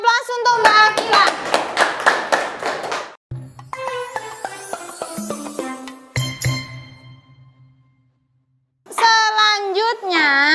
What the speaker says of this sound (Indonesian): Kita berikan aplaus untuk Mbak Akila.